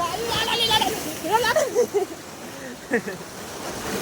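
Sea waves wash over the shore at dawn on a fishing outing, a steady surging wash with splashes beneath continuous voices of people talking nearby.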